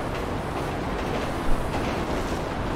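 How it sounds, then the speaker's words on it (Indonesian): A train ride in GTA V gives a steady rolling rumble with faint rhythmic clatter throughout, fairly loud and close, and one small bump midway. "Gue numpang kereta."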